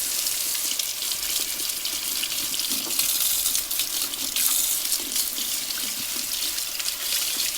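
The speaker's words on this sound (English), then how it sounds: "So I'm just going to rinse everything really well to get the acid off" Brass and steel parts from a 1950 Coleman 220D lantern are rinsed under running tap water after an acid bath, giving a steady, close, full splashing flow with the parts handled in the stream.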